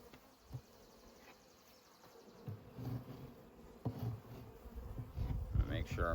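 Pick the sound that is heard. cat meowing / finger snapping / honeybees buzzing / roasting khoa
honeybees buzzing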